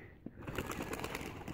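Pigeons cooing on a cage in a village setting, soft low murmuring coos that repeat quietly over faint background noise.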